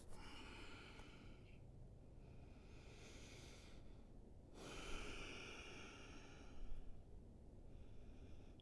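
Deep, slow breaths during a yoga pigeon pose, each long airy inhale and exhale close to the microphone, about three full cycles with brief pauses between them and no talking.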